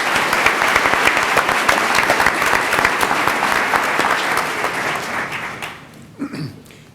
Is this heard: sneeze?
no